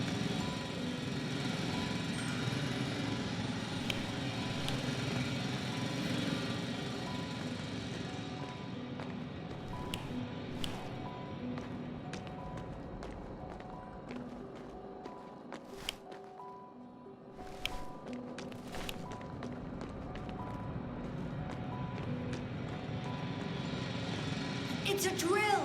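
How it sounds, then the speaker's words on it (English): Drill running in The Invincible game, a loud continuous mechanical drone with clanking hits, dipping briefly midway, with game voices talking over it. "It's a drill!"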